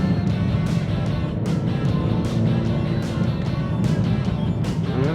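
A BMW E46 that sat unused for five years drives along, its engine running as a steady low rumble with road noise and periodic rattling bumps, heard from inside the cabin.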